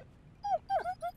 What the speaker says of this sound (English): pet the dog! Pet the dog!